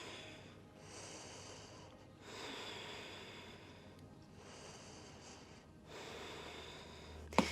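Slow, deep breaths taken during a yoga hip-opening stretch, with long airy inhales and exhales alternating in a steady rhythm, soft and close with no talking.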